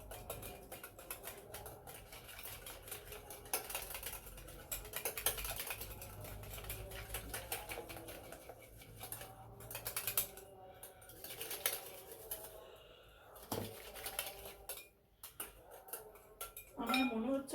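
Chocolate cake batter mixed with oil in a bowl, a quiet stretch of irregular clinking and tapping of a utensil against the bowl, with brief pauses and a faint voice now and then.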